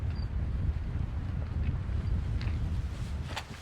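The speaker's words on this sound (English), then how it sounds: "that crosswind is wicked right now" Strong crosswind gusting across an outdoor disc golf course, a steady low rumble of wind buffeting the microphone throughout with no talk.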